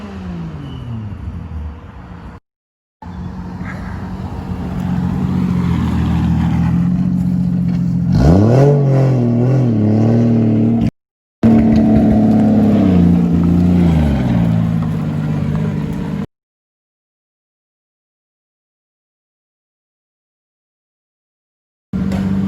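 A Nissan 240SX drift car at a drift event revs loudly and hard, its engine climbing and falling in pitch through several sustained pulls, with brief cuts to silence between passages.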